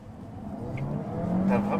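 Car engine revving up while accelerating in four-wheel-drive mode, its pitch climbing and growing louder over a short burst, with a faint voice briefly in the background.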